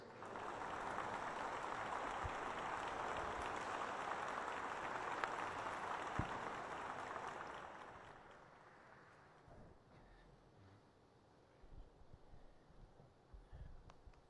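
A crowd applauds steadily for several seconds at a formal medal ceremony session, then the clapping thins out and fades to scattered room noise.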